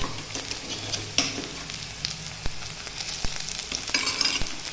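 Ginger, garlic and chili paste fries in a pan for a rajma dish, a moderate crackling sizzle punctuated by several sharp taps of a spoon stirring against the pan.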